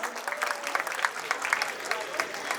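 Steady clapping from an audience at a Model UN opening ceremony, dense and sustained, with some crowd noise mixed in throughout.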